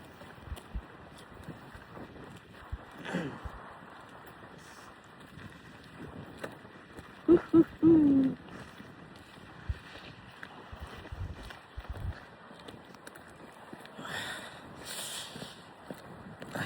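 Gusty, cold wind buffets the microphone in rough bursts while walking outdoors in Canada, with a loud rumbling gust midway and another near the end, over faint outdoor background.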